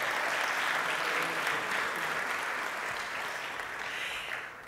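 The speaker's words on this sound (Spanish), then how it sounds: "Les pido un fuerte aplauso," Dense, loud applause from a conference audience sending off the speakers, a steady wash of many hands clapping that tapers slightly toward the end.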